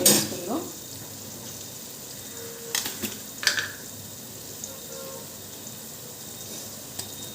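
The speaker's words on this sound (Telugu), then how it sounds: "ఇది వేగుతుంది కదా, ఇది వేగుతున్నప్పుడు మనం సాల్ట్ వేసుకుందాం." Ingredients for coconut biryani fry in a pan, a faint continuous sizzle with a few clinks and scrapes of stirring partway through.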